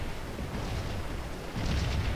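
Cannon artillery fire in a Civil War strategy video game: a low, muffled rumble of guns, swelling into a heavier boom near the end.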